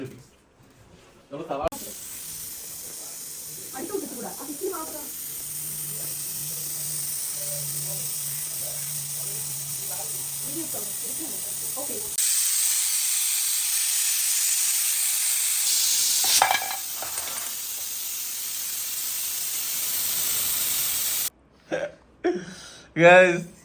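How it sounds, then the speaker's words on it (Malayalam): Pressure cooker hissing out steam while cooking biryani, a steady broadband hiss that runs for most of the stretch and surges louder for a few seconds midway, with people talking over it. "ഇനി ഇത് വിസിൽ കേൾക്കുമ്പോ നമുക്കൊന്ന് തുറക്കാം."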